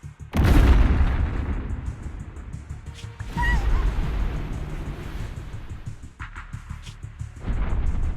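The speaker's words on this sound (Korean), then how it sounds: "비행선이 추락하고 있어" An airship crashes with a heavy explosion in the Zenless Zone Zero video game: a loud booming burst opens, followed by a sustained rumbling roar and a second swell of low-end impact noise near the end, with no voices.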